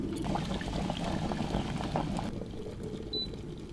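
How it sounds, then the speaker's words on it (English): Water roiling to a vigorous boil in the electric kettle of a Pakt coffee kit, a steady dense bubbling rumble that eases slightly toward the end, close and without voices. "That was a surprisingly angry boil, actually."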